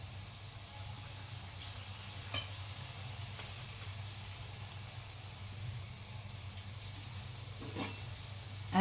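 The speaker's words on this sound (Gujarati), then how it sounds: "હવે આપણે એને ફ્રાય કરી દઈશું." Stuffed papad rolls fry in a pan of oil with a steady, even sizzle and occasional faint clinks, quiet and continuous with no talk.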